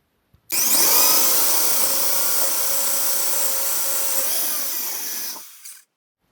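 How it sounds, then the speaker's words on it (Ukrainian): A power drill whines steadily into wood for a tool box handle for about five seconds, loud and close, then winds down and stops. "все, сверлю"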